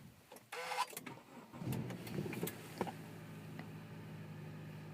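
2013 Honda Accord EX-L started cold at 6 degrees Fahrenheit: a short starter whir, then the engine catches with a rough surge and settles into a steady, fairly quiet idle, heard close and alone.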